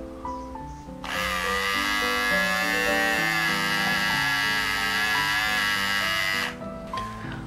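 A GSE GS 007 electric hair clipper is switched on and runs with a steady, loud, close-up buzzing hum for about five and a half seconds, then cuts off, with faint handling noise before and after.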